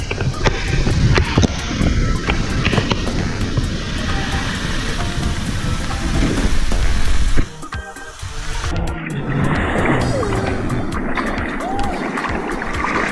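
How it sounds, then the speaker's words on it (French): Tropical rain shower in Guadeloupe in the Caribbean, a steady dense hiss of rainfall that stays loud for several seconds, then drops to a softer patter with scattered drips. "Il paraît qu'ils annoncent de la pluie."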